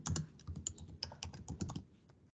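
Rapid typing on a computer keyboard, a quick irregular run of light clicks close by, with no talk over it.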